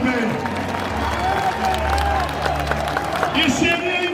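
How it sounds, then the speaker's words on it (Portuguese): Large outdoor crowd at a street demonstration on Avenida Paulista applauds and cheers amid loud, rumbling background noise, with voices shouting through the dense clapping. "Um aplauso para Carla Zambelli também."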